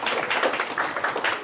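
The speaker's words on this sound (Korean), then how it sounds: "박수 부탁드리겠습니다." An audience at an education policy forum claps in a short burst, a crisp, fairly close patter of many hands beating in a quick uneven rhythm.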